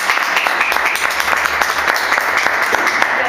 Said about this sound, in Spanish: Pues vamos a recibirla con un fuerte aplauso.